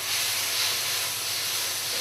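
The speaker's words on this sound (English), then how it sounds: "Okay, so we give this a good old stir up." Chow mein with stock stirred in a hot pan, a steady loud hiss and sizzle running without a break, close up and with no talking.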